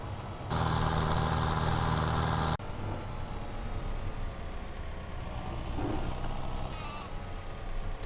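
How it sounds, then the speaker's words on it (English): A sheep bleats loudly for about two seconds in a video game, then a low engine idles steadily with faint background sounds. "Don't want the sheep escaping."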